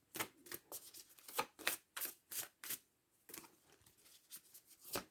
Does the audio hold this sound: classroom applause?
no